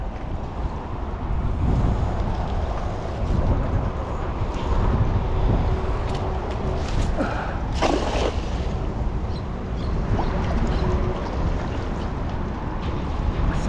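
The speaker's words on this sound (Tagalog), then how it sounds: "Mahangin." Steady, loud wind buffeting the microphone outdoors on a small fishing boat on open water, with a constant rush and faint wave wash throughout and no clear talk.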